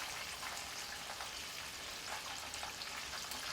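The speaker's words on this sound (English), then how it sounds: "when you're deep frying, you'll always know when whatever you're frying is done" Chicken wings deep frying in hot peanut oil give a steady, dense sizzle and crackle, close and continuous with no talking.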